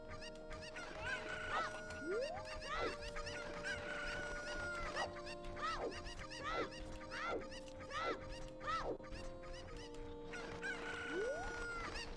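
A chicken in a Zelda video game clucks and squawks in repeated rising calls over steady game music, fairly faint and continuous throughout.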